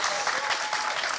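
A crowd at a climate justice panel breaks into brief, dense applause, a close and steady rush of clapping hands lasting about a second with no speech.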